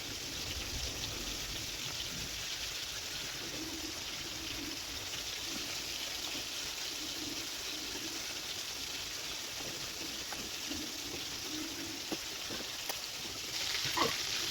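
Chicken drumsticks frying in oil over a low flame give a steady, soft, even sizzle that hisses continuously throughout, with a slight rise in crackle at the very end.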